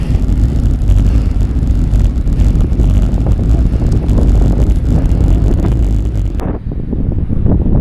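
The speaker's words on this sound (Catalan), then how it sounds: "La veritat és que avui fa molt de vent. No sé si s'escoltarà molt bé l'àudio" Strong wind buffeting the microphone at the Port de Tudons mountain pass, 1,025 metres up: a loud, continuous rumbling roar that cuts out abruptly near the end before gusting back in.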